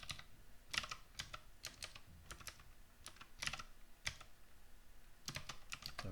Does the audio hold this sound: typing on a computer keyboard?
yes